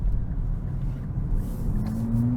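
A 2024 Nissan Z Performance pulls hard from second gear with a close, steady low engine rumble whose tone climbs near the end, and no voices over it.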